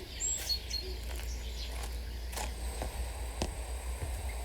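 Robins chirp and sing in the garden of the video game Botany Manor, a few short high calls scattered over a steady low ambient hum, fairly faint and with no talking.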